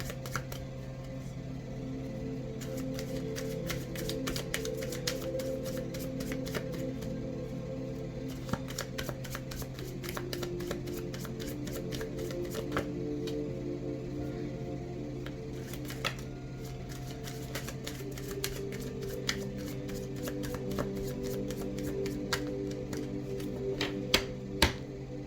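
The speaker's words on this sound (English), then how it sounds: "as I'm shuffling, if nothing comes out, then I will stop after 3 shuffles and pull from the top" Tarot cards are shuffled by hand in repeated riffling bursts of crisp papery ticks and flutters, close and clear, continuing steadily for a long stretch without talk.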